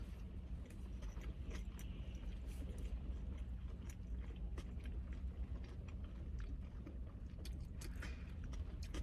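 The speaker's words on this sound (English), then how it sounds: "Do you hear that crunch? It's the hash brown." A crispy Taco Bell breakfast hash brown is chewed close up, with a steady stream of small crunches over a constant low background.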